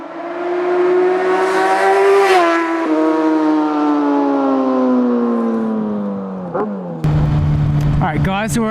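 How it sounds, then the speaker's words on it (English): A loud sports bike exhaust note, a Kawasaki 636, with a steady harmonic drone that slowly falls in pitch, then a sharp rise as the throttle opens near the end. "Doesn't the exhaust note just sound amazing?"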